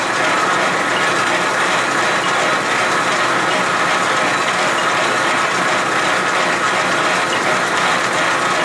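A South Bend lathe is cutting down the tops of threads, giving a loud, continuous mechanical rattle and grind that stays close and unbroken throughout, with no talking.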